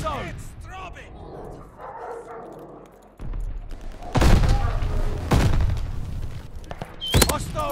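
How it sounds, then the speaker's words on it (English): Hostile attack dogs bark in a military shooter game, a few yips and barks mixed among sharp bursts of gunfire, with voices speaking over the battle noise. "Hostile dogs in the zone."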